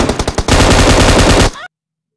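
A burst of M249 machine gun fire from a video game, loud rapid automatic shots that open with several separate cracks, then run into a continuous stream and stop suddenly, with a brief tail.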